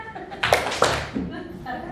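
Sharp hand claps in a call-and-response clapping game led at a school, two or three distinct claps close by amid children's voices and chatter.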